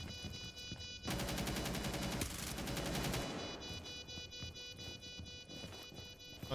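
Suppressed SMG 11 fire in a video game comes as rapid, loud, continuous bursts lasting about two seconds, then a softer stretch of quieter game noise.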